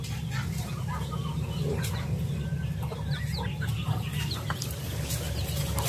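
A brooding hen clucks softly among other chickens over a constant low hum, the faint, scattered clucks sitting close but gentle in the background.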